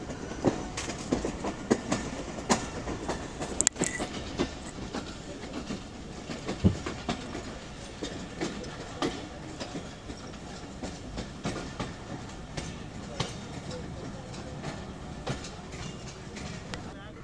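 Jaffar Express passenger train running on rails between Lahore and Gujrat, a steady rumbling roar with faint rhythmic clicks from the wheels, voices and bustle intermittently heard over it.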